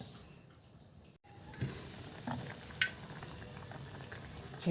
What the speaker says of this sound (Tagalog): Papakuluan na natin yan hanggang sa lumambot yung ating pork ribs.